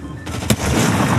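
Gunfire in a Fortnite Zero Build squad match, a sharp shot followed by a dense burst of rapid fire that fills the short moment, loud and close.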